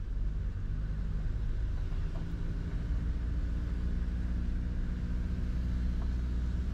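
A car drives slowly uphill on a park road on San Fernando Hill, its engine giving a steady low rumble heard from inside the cabin without any change in pace.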